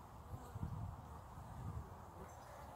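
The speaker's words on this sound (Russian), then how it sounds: "И вот есть пчелы, которые приносят просто гору обножки." Honeybees busy at a strong hive entrance in late November, a soft steady hum with faint rustling, low and continuous throughout without any talk.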